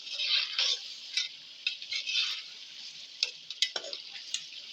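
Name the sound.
roasting chicken with masala in a pan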